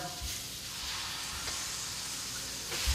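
Four big, thick chicken breasts cook in salted butter over low heat, giving a quiet, steady sizzle and hiss throughout, with a few soft low knocks of pan handling and no talk.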